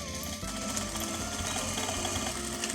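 A sewing machine runs a vertical stitch through corset lining, a steady close mechanical whirr with a rapid needle rhythm that carries on without pause.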